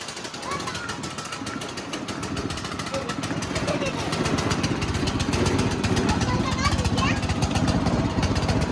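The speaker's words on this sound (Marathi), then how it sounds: "तर मित्रांनो, ट्रॅक्टर चालू झालाय बरं का" A tractor engine runs with a rough, rapid diesel chug that steadily grows louder, close by, with people talking over it.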